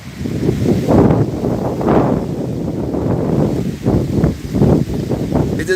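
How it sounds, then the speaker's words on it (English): Strong outdoor wind buffets the microphone in continuous low rumbling gusts that surge and ease over several seconds, loud and close, with no talk. "It is very windy"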